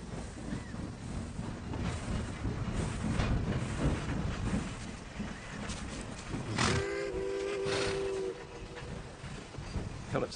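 A train pulling into a station: a continuous rumbling, rattling roll with a brief two-tone whistle sounding partway through, fairly close and steady.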